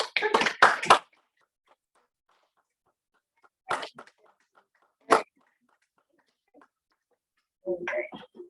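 Board members at a school district board meeting clap in a short, loud burst at the start, followed by quiet with a few isolated sounds and a brief murmur of voices near the end.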